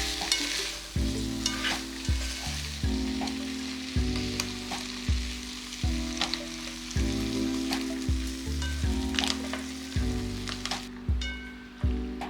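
A tomato sauce base seasoned with salt and oregano sizzles in a pan with a continuous gentle hiss, and a tonal, music-like backdrop sounds underneath.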